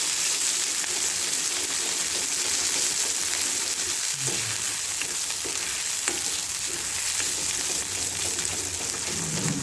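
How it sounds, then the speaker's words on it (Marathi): Steady, loud sizzling of curry masala roasting in hot oil for a raw banana curry, with occasional scraping and stirring noises, continuous throughout with no talking. "आता हे चांगले भाजून घेते हे का तेल सुटेपर्यंत"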